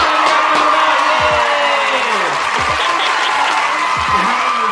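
A crowd applauds and cheers loudly and steadily, with whoops and excited voices rising above the dense clapping throughout.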